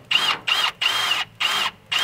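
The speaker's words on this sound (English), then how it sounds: "I'm drilling in the new material down there" A power drill whirs in five short bursts into metal on a Case 530 tractor, each about a third of a second, with brief pauses between, close by and fairly loud.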